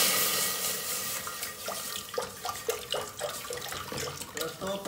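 Water from a tap running and splashing into a cooking pot as about 1.5 litres are added for boiling rice, a steady rushing pour close by with some small clatters, no talk.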